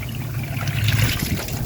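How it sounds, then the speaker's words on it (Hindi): Water sloshes and trickles as clothes are washed by hand outdoors at a tubewell, a continuous close splashing with breezy background noise and no talking. "मैं कपड़े धो रही हूँ"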